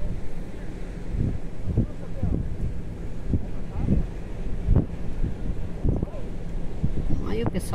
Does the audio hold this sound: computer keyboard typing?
no